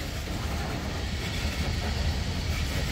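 A Norfolk Southern freight train passes in Morgan Grove, West Virginia, a Dash 9 or AC44C6M locomotive at the rear, giving a low steady rolling rumble of wagons at moderate distance, constant and unbroken.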